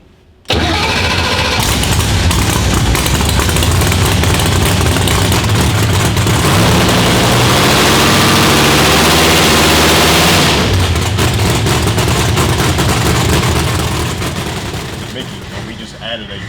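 Pro Line Racing HEMI engine making about 3,430 wheel horsepower fires up on a dyno and roars loudly and continuously for several seconds, then winds down.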